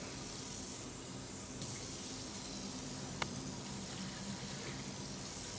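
Cold water pours steadily from a tap into a pot for dashi, a continuous broadband rush with a faint clink partway through.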